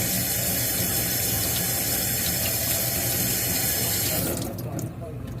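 A steady rush of tap water runs over a young pumpkin being washed under the faucet, loud and continuous before easing slightly near the end.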